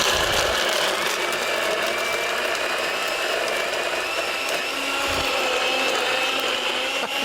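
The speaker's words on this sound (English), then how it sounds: "Then you can use your blender. I have a Magic Bullet here" A Magic Bullet blender grinds ingredients with ice cubes, giving a steady, loud whirring and rattling buzz that runs continuously from start to finish with no voices over it.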